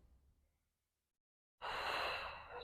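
A person exercising takes a soft breath, pauses in near silence, then gives a loud, close, breathy exhalation lasting about a second.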